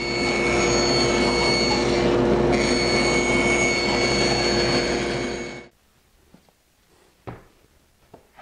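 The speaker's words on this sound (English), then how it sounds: "go over my bandsaw, and this is a bandsaw circle cutting jig, and cut these 3 pieces out" A bandsaw cuts circles from MDF using a circle-cutting jig, giving a loud steady whine with a brief dip midway. The blade stops abruptly after about five and a half seconds, leaving faint clunks and handling noises.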